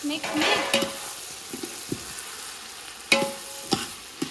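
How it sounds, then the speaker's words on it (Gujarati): Eggplant, cauliflower and cluster beans frying in oil, a soft sizzle with scattered spoon scrapes and clinks, busier at the start and again near the end, with no talk. "તો હવે આપણે છે ને તેલમાં આમાં ખાલી બધું શાકભાજી એડ કરી દીધું છે."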